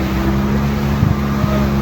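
A boat engine accelerating on the water, a steady loud motor drone with rushing wind noise across the whole stretch, no talk heard.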